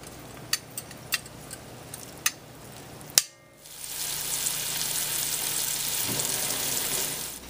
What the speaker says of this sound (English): I have a Dutch oven here, and I put some olive oil in over a medium-high heat. So, I'm going to place in our meat.